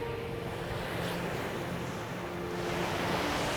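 Waves washing onto a beach, a continuous, even surf rush with wind noise and no clear breaks.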